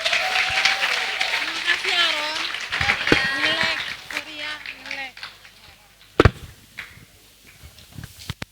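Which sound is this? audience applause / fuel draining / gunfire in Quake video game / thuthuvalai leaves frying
audience applause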